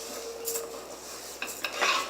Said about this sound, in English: Again, we're going to get a real good stir in there.